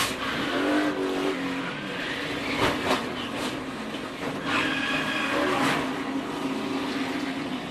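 A NASCAR stock car spinning out during a race at Daytona, a dense continuous roar of engines and tire noise with rushing broadband wash and brief scraping surges, loud and steady throughout.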